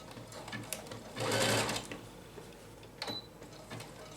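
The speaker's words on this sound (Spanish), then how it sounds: "Las vamos a coser con puntada de zigzag al borde." A domestic sewing machine runs a short burst of zigzag stitches along the edge of elastic on a bikini bottom, a close, steady whir lasting about a second amid quieter handling clicks and taps.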